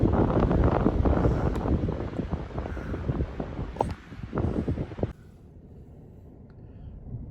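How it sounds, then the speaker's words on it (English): Strong wind buffets the microphone on a hilltop as a heavy snowstorm approaches, loud rumbling gusts that ease off and then drop abruptly to a quiet hiss near the end. "up here on top, the wind is, it's really whipping up here"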